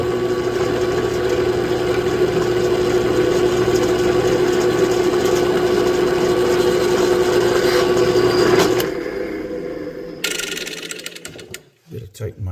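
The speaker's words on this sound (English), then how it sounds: "I'm going to drill these out a little smaller than they need to be" Drill boring bridge pin holes into an East Indian rosewood 12-string guitar bridge, a steady close whirring motor drone lasting several seconds before winding down, then a few brief handling knocks.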